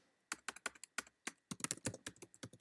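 Quick, crisp keystrokes on a computer keyboard, a run of separate taps speeding into clustered bursts, close and fairly quiet with no talking.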